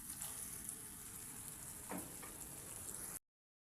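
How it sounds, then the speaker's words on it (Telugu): Raw prawns dropped into a turmeric-spiced curry base frying in a pan, setting off a steady close sizzle that swells briefly with a soft splash as they land, then carries on evenly. "మనం ఇప్పుడు ఇందులో రొయ్యలు అనేటివి వేసేసుకుందాం"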